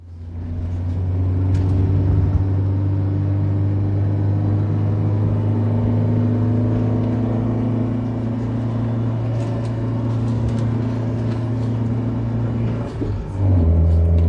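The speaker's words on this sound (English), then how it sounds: "Next up, a test drive to see if it actually rides okay." An Abarth car is driven on a test drive after a wheel alignment, giving a loud, steady engine and road rumble inside the cabin that holds fairly even for the whole stretch, with a brief dip near the end.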